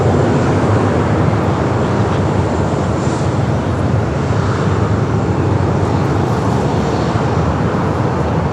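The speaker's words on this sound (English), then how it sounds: "That's that Sun Country 737-800 coming in from Kona, heading over there to Signature Aviation" A Sun Country Boeing 737-800 arriving at Los Angeles International Airport after a flight from Kona, its jet engine noise a loud, steady broadband roar that holds throughout with no talk.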